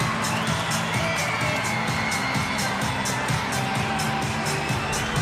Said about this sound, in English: it's met by a cheer, but a belated one at that